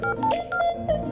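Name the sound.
telephone number being dialed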